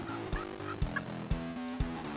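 Wild turkeys gobble in an open field, four loud, rattling gobbles at a regular interval of about half a second, close and clear with no voices over them.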